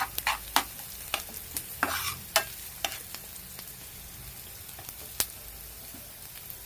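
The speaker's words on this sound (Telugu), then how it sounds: "మంచిగా ఫ్రై అవనిద్దాం ఉల్లిపాయలు, పచ్చిమిరపకాయలు కొంచెం." Onions, green chillies and curry leaves fry in a pan with a soft, constant sizzle, punctuated by sharp, irregular clicks and scrapes of a spoon stirring close by.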